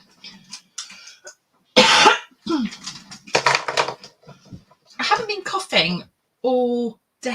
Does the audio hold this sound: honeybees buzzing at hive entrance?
no